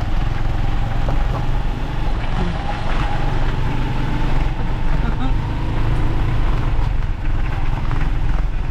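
A motorized tricycle rides through Nueva Ecija in the Philippines, its engine a constant, close droning rumble mixed with road noise that never lets up.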